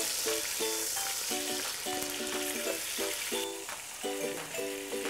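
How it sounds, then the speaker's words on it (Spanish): Free-range chicken sizzles and fries in a hot pan for a creamy rice dish, a dense, steady crackle close by with a few light stirring clinks and no talking. "Procedemos ahora a poner el pollo para sofreírlo."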